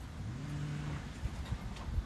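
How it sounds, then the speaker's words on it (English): Faint traffic hums in the distance, a low engine drone with soft passing swells and no voices. "And then there's the sound of cars over there."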